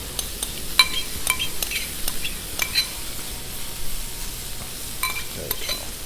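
Vegetables and ham hit a hot Blackstone griddle with butter and oil for a Denver omelette, a moderate steady sizzle with scattered spatula taps and scrapes up close, no speech.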